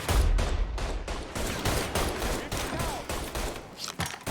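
Gunfire in the Mafia III video game: a dense, continuous volley of shots cracking in rapid succession, loud and close throughout.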